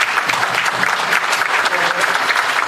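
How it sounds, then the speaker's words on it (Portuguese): An audience at a round-table tribute event gives dense, sustained applause, close and loud throughout. "queria pedir aqui uma salva de palmas para o Germano"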